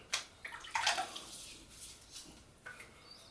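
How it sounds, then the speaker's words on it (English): Water splashes as a face is wetted before a shave, with a few faint, close splashes and drips, quiet and without talk. "And let me wet my face and I'll get started."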